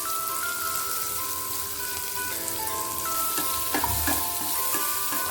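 Ridge gourd and shallots stir-fry in a pan, giving a steady close sizzle with a few stirring clatters and faint tonal background sounds.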